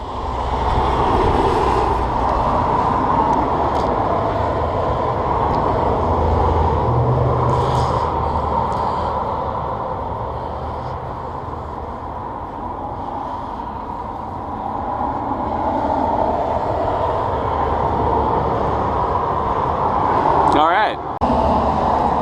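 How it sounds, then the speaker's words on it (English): Loud traffic passing outside a window, a continuous heavy rumble and roar that swells and fades as vehicles go by, with a voice talking faintly underneath. "Sorry about all the loud traffic going by."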